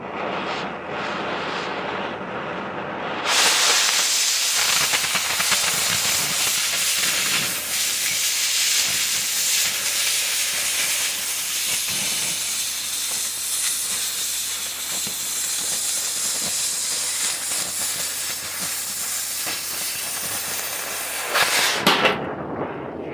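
An oxy-fuel cutting torch burns with a loud, roaring hiss from a nearly three-foot flame, starting abruptly and holding steady for about twenty seconds at close range before cutting off, with no talking.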